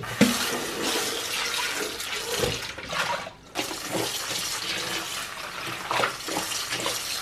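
Tap water running into a bath to refill it for soaking an embroidery canvas, a steady close splashing gush with a brief dip midway, otherwise continuous and alone.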